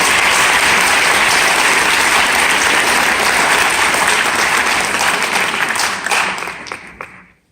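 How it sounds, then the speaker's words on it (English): Sustained audience applause at a spring high school concert, loud and dense throughout before thinning out and ending abruptly near the close. "So let's give them a round of applause for"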